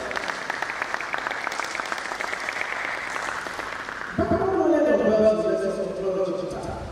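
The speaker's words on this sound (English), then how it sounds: "Give a round of applause to this college." An audience at an annual lecture event in Nigeria breaks into applause for a college, a dense steady patter of many hands, with a sharp ringing tone swelling up partway through over the clapping.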